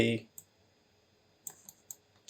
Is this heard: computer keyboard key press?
yes